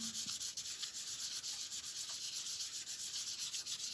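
Dry pastel chalk rubbed over layered pigment on paper, a steady close scratchy rasp running continuously with slight rhythmic strokes, no voices.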